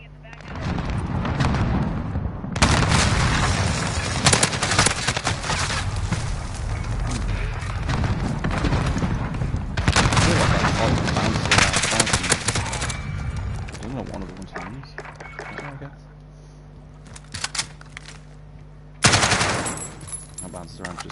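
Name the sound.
sniper rifle gunfire in Modern Warfare video game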